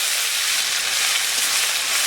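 Chopped onions sizzle in hot oil with cumin seeds and bay leaf for an egg curry, a dense, steady hiss that stays close and loud throughout without pause, no talk.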